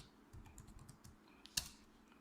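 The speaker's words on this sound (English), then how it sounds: "I'm going to type it using the keyboard that I have on my laptop" Quiet keystrokes on a laptop's built-in keyboard, a short run of soft clicks followed by one sharper tap, heard close in a quiet room.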